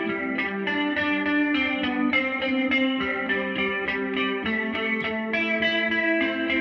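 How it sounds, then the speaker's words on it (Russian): Electric guitar run through the Bias FX amp plugin plays a steady post-punk part of ringing chords, thick with chorus and slight distortion, with no voices. "И теперь на этот сырой звук мы накидываем Bias FX,"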